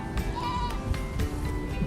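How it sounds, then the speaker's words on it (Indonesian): An adult Saanen goat bleats on a farm, a few close, wavering calls over low background rumble. "Bisa juga kita berinteraksi dengan kambing yang lumayan sudah dewasa nih, seperti ini, teman-teman."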